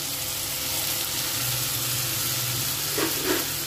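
Wheat-flour pasta goes into a pan of softened, sizzling tomatoes, making a steady, moderate frying hiss with a couple of brief louder bursts of sizzle near the end.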